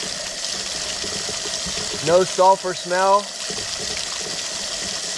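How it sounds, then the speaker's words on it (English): A used pump kicks on and draws water up from a hand-dug well about 34 to 35 feet deep, making a steady rushing, watery drone throughout while someone talks over it. "You hear the pump kicking on."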